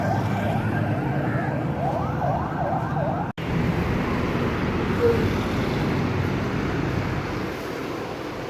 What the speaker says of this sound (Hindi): एम्बुलेंस का रास्ता दिया जा रहा है, बाकी गाड़ियों को रोक दिया जा रहा है।